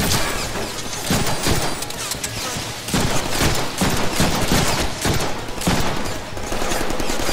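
Dense gunfire in the Deadpool video game, with bursts of rapid shots and heavy impacts crowding the whole stretch, loud and close, with a faint voice underneath.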